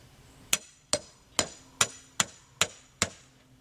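A hammer drives rebar stakes into the ground while cement raised-bed garden walls are laid out, landing seven sharp, evenly spaced strikes, each loud and close with a short ringing tail.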